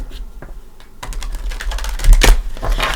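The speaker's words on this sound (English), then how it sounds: "I still like to give it a shuffle or two with you here" A tarot deck is shuffled by hand, giving a close, rapid riffle of card edges that starts after a quiet moment and runs in dense, crackling bursts until the end.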